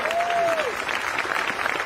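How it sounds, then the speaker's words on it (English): Crowd at a rally in Boston breaking into applause, a steady wash of clapping heard at moderate distance, with a brief voice sliding over the start. "Let's give ourselves a round of applause."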